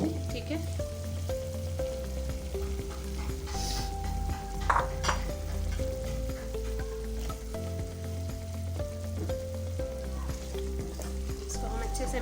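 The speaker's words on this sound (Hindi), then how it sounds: "अब जो है मैं इसके अंदर लौकी ऐड कर दूंगी जो मैंने कटिंग करके रखी थी" Chopped bottle gourd is tipped into hot oil and fries with a loud, busy sizzle, joined by stirring scrapes and clinks of a pan and utensil, while tonal background music plays along.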